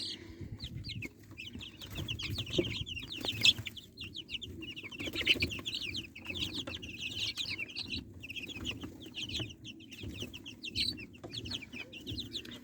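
Twelve-day-old local breed chicks cluck and cheep continuously in a dense, busy chorus, fairly faint, with low background rumble and no talking.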